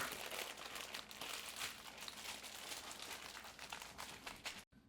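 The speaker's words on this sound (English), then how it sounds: "and wrap it in waxed paper." Waxed paper crinkles and rustles continuously as it is folded around a vegetarian haggis, close and fairly loud, then stops abruptly at the end.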